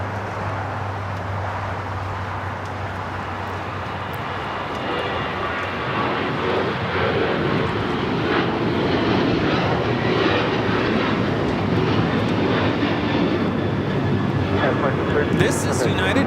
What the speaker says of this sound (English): 2732 taking off to Denver, Colorado on the 737-900ER